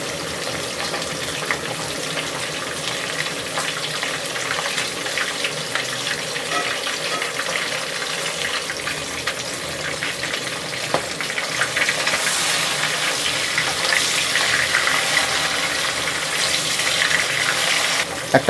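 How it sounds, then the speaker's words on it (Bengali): Rui fish fries in hot oil, a dense continuous sizzling hiss that holds steady and grows slightly louder toward the end. "মাছটাকে তুলনামূলক একটু কড়া করে ভেজে নিতে হবে।"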